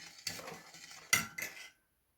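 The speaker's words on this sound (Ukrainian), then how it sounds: "Зараз я добре розмішаю маринад і буду заливати" A spoon stirs marinade for a layered pickled salad of mushrooms, eggplant and tomatoes, giving a few close scraping and clinking strokes against the container, one sharper knock near the middle, then silence.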